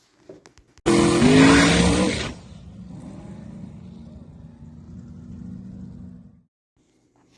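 A Chevrolet Nova drag race car at a spring drag night tears off in a loud, close burst of engine roar and tire squeal lasting about a second and a half, then a steadier, quieter engine drone carries on for several seconds before cutting off.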